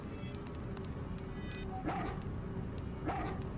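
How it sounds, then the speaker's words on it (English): A dog yips and barks twice in the PS2 horror game Haunting Ground, fairly faint over a constant game soundtrack drone. "Huey's barking."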